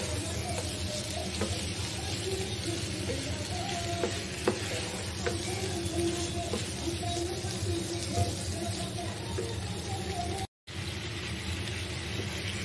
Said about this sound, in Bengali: মশলার সাথে এখন ধুন্দুলগুলো একটু কষিয়ে নিব